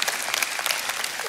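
An audience applauds with dense, steady clapping, many hands patting in a fast irregular patter that stays even and fairly loud throughout, with no voices over it.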